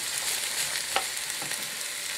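Green beans stir-fry in a hot pan with a steady hiss, and a few soft scrapes and knocks come as they are tossed.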